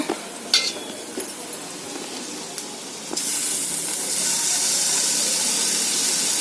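Onion and tomato fry in a pan for a bhaji, giving a steady sizzling hiss that jumps louder and denser about halfway through, with a few soft stirring clatters early on and no talk.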